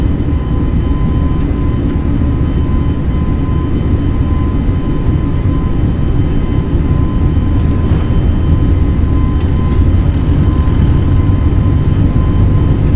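The engines of an IndiGo A320 spool at takeoff thrust in Microsoft Flight Simulator 2020, a loud, steady low roar with a faint tonal whine that holds unbroken throughout, with no voices.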